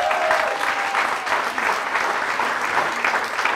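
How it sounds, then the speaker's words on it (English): A crowd at a VFW hall in Salem, NH claps steadily through a round of applause at a fundraising comedy event, dense and even for several seconds. "Give them one more round of applause."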